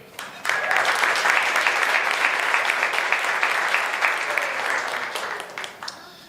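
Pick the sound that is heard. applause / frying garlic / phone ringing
applause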